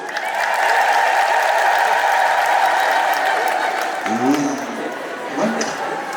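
Congregation at a church gathering clapping together on request, a loud sustained wash of applause that thins and fades toward the end as a voice speaks over it.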